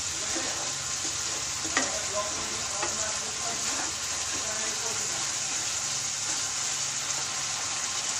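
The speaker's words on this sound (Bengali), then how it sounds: "মশলাটা পুরো ভাজা হয়ে গেছে" Spices for doi begun (eggplant in yogurt) fry in oil in a pan, a steady broadband sizzle with a few faint clicks of stirring and no talk.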